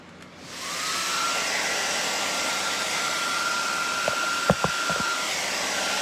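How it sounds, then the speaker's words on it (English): A hair dryer switches on and blows with a steady whirring hiss close by, drying paint, with a few soft clicks and knocks near the end. "Alright, so let me hit it with the dryer."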